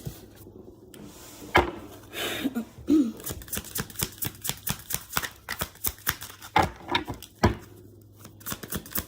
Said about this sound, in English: Let me move these cards up.